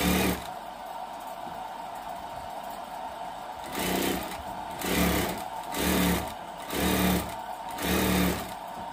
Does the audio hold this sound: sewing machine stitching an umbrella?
yes